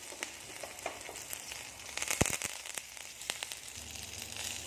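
Mustard seeds and garlic crackle in hot oil with a faint, spattering sizzle dotted with scattered pops and one louder burst partway through.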